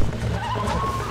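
A brown horse in Red Dead Redemption whinnies during a rodeo, a loud, short neigh over rumbling game background noise.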